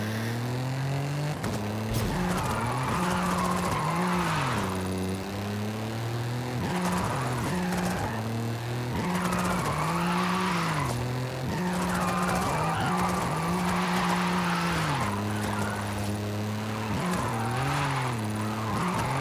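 A 2023 Toyota Camry TRD drifts with traction control off in Forza Horizon 5. Its engine revs rise and fall in repeated sweeps while the tires squeal steadily, loud and close throughout.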